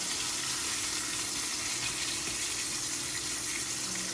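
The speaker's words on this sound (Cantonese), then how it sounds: "嗱，一落落喳喳聲啊啲牛" Thick slices of Korean hanwoo beef sizzle in a hot frying pan over medium heat, a steady close crackling hiss running unbroken throughout with no talking.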